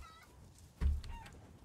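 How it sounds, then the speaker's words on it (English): Chickens clucking in the Resident Evil Village video game, a single brief burst of poultry clucks with a low thump, standing out against quiet game ambience. "Chasing chickens."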